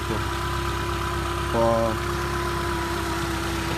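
A car engine idling while it warms up, a steady close drone with a brief rise in the middle. A voice speaks a short word.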